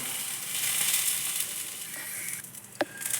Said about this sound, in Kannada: ಸ್ವಲ್ಪ ಮೆಣಸಿನ್ಕಾಯಿ ಒಂದು ಅರ್ಧ ಸ್ಪೂನ್ ಎಣ್ಣೆ ಹಾಕ್ಕೊಂಡು ಸ್ವಲ್ಪ ಫ್ರೈ ಮಾಡ್ಕೊಂಡಿದ್ದೀನಿ